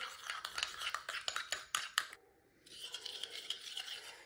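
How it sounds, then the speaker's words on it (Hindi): A spoon clinks and scrapes against a bowl while mixing yeast with water, rapid rhythmic metallic strokes close up, a short pause, then softer continued stirring. "इसमें थोड़ा सा पानी डाल लेंगे, अच्छी तरह मिक्स कर लेंगे।"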